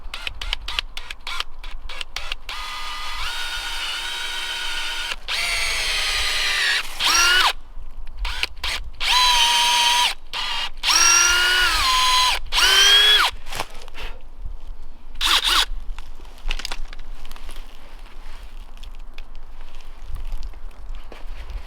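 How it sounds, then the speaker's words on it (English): An electric drill whines in repeated bursts, its pitch rising and falling as it bores at a downhill angle into a maple tree for tapping, with brief pauses between runs. "If you drill it at a downhill angle, it's going to help the sap flow better."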